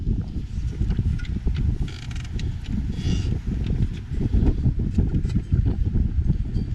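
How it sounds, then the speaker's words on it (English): A propeller on a Formula 27 SS sport boat's sterndrive turned by hand, giving a close, steady run of low mechanical clicking and ratcheting with light whirring. "this prop spins nicely"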